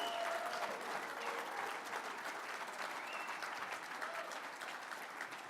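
Audience applause at the 2016 Palm Springs Equality Awards, a steady sustained wash of many hands clapping in a room, fairly distant and even throughout with no talk.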